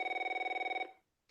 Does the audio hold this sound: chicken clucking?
no